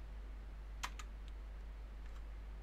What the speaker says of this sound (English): and then I will type